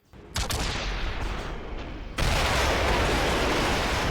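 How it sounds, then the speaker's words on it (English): A cannon in the Quake 4 video game fires at a door, a sudden loud blast followed by sustained roaring rumble, then a second heavier explosion that keeps the noise dense and loud to the end. "Kane, hop in the cannon and see if you can't blow open the door."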